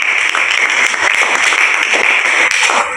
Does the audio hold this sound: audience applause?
yes